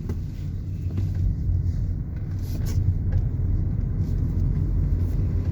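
Steady low engine rumble and road noise heard from inside a moving 2014 Dacia Logan MCV 1.5 dCi, a constant drone with faint ticks and rattles above it.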